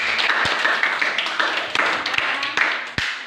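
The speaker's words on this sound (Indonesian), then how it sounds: "kita berikan aplaus untuk kelompok 3 yang sudah mempresentasikan" A class audience applauds a student group after its presentation: a continuous wash of many hands clapping at moderate loudness, with a few sharper individual claps standing out and faint murmuring underneath.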